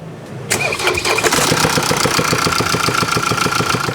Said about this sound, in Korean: 시동 한번 걸어 주세요.